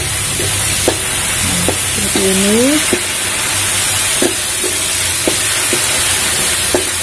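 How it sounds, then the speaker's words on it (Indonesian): Chili sambal frying and being stirred in oil over low heat, a steady broad sizzle with intermittent spoon scrapes and knocks against the pan, close and continuous, with a brief spoken phrase partway through. "Kita goreng, kita tumis sampai apa ya, sampai minyaknya itu keluar gitu"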